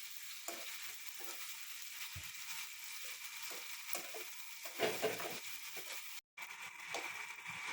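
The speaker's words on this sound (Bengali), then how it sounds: "দেখুন কত সুন্দর গলে গিয়েছে টমেটো, সুন্দর করে ভেজে নিয়েছি মশলাটা" Tomato masala sizzles and fries in a pan, a steady close crackle broken by repeated scraping stirs of the spatula, with one brief cut to silence near the end.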